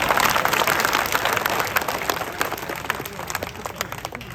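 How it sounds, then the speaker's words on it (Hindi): A crowd at an Independence Day religious address bursts into dense, sustained applause that stays loud and close before gradually thinning toward the end. "जोर से बजाओ तालियां"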